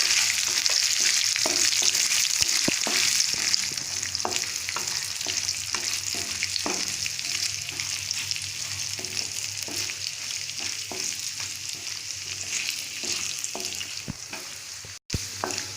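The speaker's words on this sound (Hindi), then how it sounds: "इसमें हम अदरक, काजू, बादाम और पिस्ते डाल के ब्राउन होने तक इसको भून लेंगे।" Ginger, cashews, almonds and pistachios sizzling as they fry in hot oil in a kadhai, a steady loud crackle with a spoon stirring and scraping in repeated strokes.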